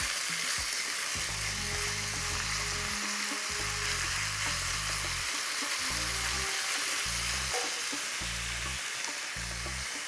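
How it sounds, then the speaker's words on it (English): Loud, steady sizzling of chicken stir-frying in a hot pan over a big flame, with occasional stirring scrapes and a constant hiss throughout. "You need a big flame when you're stir frying."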